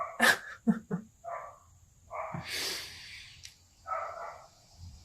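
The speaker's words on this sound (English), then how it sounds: "I'm really sorry that my neighbor's dog has been let outside." A neighbor's dog outdoors gives several short barks and snorting huffs at moderate distance, spaced irregularly in small bursts with quieter breathing sounds between them and no talking.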